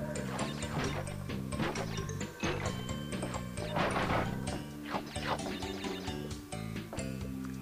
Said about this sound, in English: Got a load of boxes to smash there.